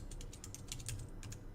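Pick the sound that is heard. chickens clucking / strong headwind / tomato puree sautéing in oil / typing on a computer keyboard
typing on a computer keyboard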